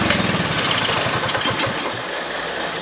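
Honda dirt bike engine running just after starting, a steady rough close-up idle with rapid irregular putter and no talk.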